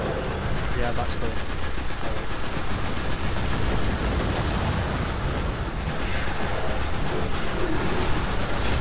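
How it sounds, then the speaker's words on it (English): Gunfire in the video game Destiny, rapid continuous volleys of shots like machine-gun bursts, loud and dense throughout, mixed with game effects and some talking. "And I just keep shooting him."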